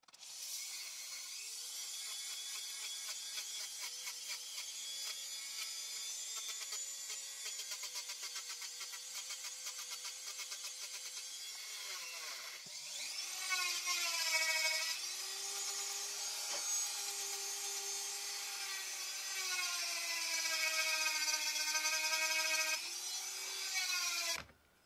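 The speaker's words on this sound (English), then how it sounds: "I'm going to be using the Dremel and just clean it up a little bit and then get it close to our final size" Dremel rotary tool grinding a carbon fiber ring blank, a steady high-pitched whine with shifting pitch as pressure changes, continuous and close with no talk, growing slightly louder in the second half.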